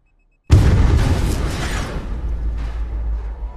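A bomb exploding inside an elevator in a film, a sudden loud blast out of silence with a deep rumbling boom that slowly decays into a lingering roar and debris noise.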